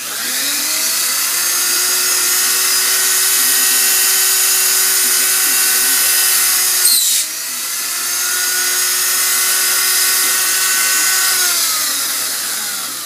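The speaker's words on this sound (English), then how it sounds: "We got a Dremel with a real sharp little bit." High-pitched whine of a Dremel rotary tool drilling a small hole, running close up, its pitch dipping briefly midway as the bit bites in, then steadying again.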